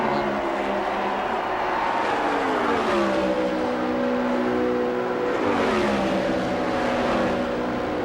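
An Indy race car at the 1998 Indianapolis 500 screams down the long front stretch off turn 4, its high engine note rising and sliding in pitch as it passes, with a second pitch sweep later and a loud, steady roar throughout.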